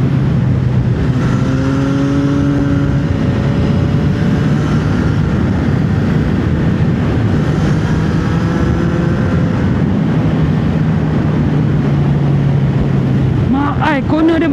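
A CFMOTO 675SR sport motorcycle engine drones loudly and climbs in pitch through the gears into fifth, with heavy wind noise throughout and a sharp rev near the end.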